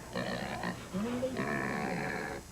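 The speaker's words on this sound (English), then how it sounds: "Anytime you try to handle a pig, they'll squeal, and they'll squeal loudly." A pig squeals loudly while being handled, in two close, harsh, wavering bursts separated by a short break.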